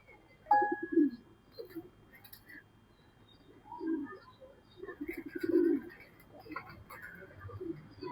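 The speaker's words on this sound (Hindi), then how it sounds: "पुरानी हालत में आपको दिखाए जा रहे हैं कबूतर" Soft coos from breeder pigeons come in a few separate low murmuring bursts, close by, with faint chirps and a quiet background murmur between them.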